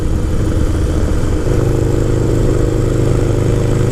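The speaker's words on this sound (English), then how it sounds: "got to make sure that I keep the engine engaged in the right gear and not go too high of a gear" A Harley-Davidson Sportster fitted with LA Choppers mini ape bars on a test ride gives a steady, close engine drone with wind rush, its tone deepening slightly partway through as the gear or throttle changes.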